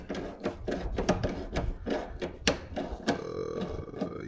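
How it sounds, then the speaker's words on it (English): A bolt is fitted up through the bottom of a car trunk into a rear spoiler wing: close, irregular sharp clicks and scraping metallic rubs, ending with a faint, steady whine. "we're basically just sending the bolt through the bottom of the trunk right here"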